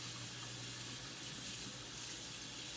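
A kitchen tap runs continuously as hot water pours steadily into a sink, a close, even hissing flow with no talking.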